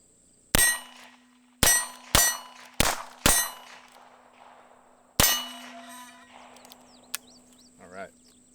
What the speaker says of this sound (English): let me just actually go ahead and fire off the 6 rounds that are in this cylinder